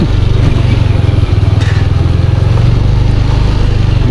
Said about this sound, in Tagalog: Ang daming ganitong tricycle, oh. Ang ganda kasi ang bibilis nila.